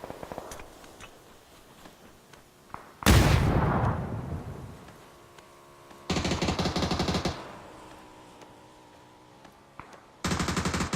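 Gunfire in a PUBG battle: a loud close burst, then two longer sustained volleys of rapid automatic shots, with fainter scattered distant shots between them.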